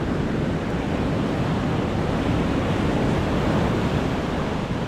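Ocean surf on a South African beach, a continuous loud wash of breaking waves mixed with wind buffeting the microphone, with no voices.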